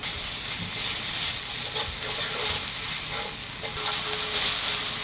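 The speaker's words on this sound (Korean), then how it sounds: "팬에 기름을 한 스푼 먼저 둘러주세요. 마늘 한 스푼 먼저 넣고 볶을게요." Garlic frying in oil in a pan gives a steady, close sizzle and crackle with occasional stirring scrapes, and no talking.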